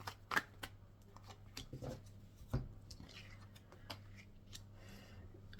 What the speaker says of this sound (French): Je vais prendre une carte des chakras du cœur.